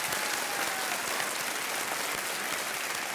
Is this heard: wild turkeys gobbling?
no